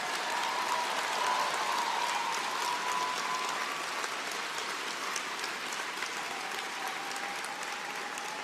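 Audience at a Liberal caucus holiday gathering applauds Karina and her team, a steady rain-like wash of many hands clapping with a few sharper claps on top, holding level before easing slightly.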